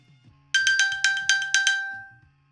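An iPhone set off remotely from an Apple Watch rings alone with a quick run of bright chiming pings and a decaying tail, over a faint low hum.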